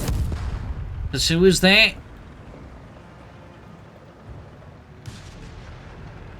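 Company of Heroes 3 battle, Wehrmacht versus British forces, with grenades thrown at Italian troops: a dull muffled blast rumble runs under a commentator's voice, with a short sharper crack later on.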